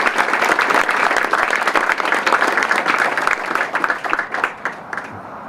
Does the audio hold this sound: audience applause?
yes